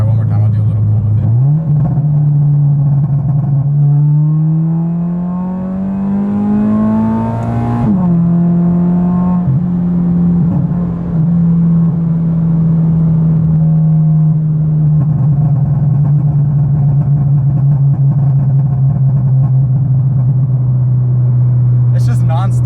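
A modified Subaru BRZ engine revs up in a long pull, the tone climbing, dropping briefly, then holding a steady drone near the microphone, with a few crackles from the exhaust.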